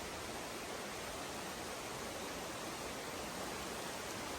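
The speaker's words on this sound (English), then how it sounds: "Another beautiful creek to go over." A creek beside a hiking trail in the Smokies rushes in a constant, even wash of water noise, unbroken and with no voices.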